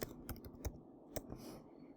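Several quick, faint clicking keystrokes land on a computer keyboard at an uneven pace in a quiet room, with short gaps between the taps.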